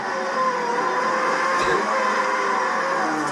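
A race car at Brands Hatch Indy, in testing, brakes into turn 1 from around 140–150 mph. A loud, steady onboard roar of engine and wind runs throughout with no talking.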